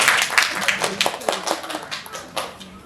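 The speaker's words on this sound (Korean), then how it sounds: "박수 한번 부탁드릴게요." A small audience at an apartment presentation claps for a few seconds, a scattered run of hand claps that thins out toward the end, with voices talking over it.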